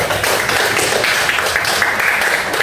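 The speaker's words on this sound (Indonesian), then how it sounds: "silakan untuk tepuk tangan buat kelompok 1" Classroom group clapping for the first group after its presentation, a dense, fairly loud patter of hands lasting a couple of seconds with no talking.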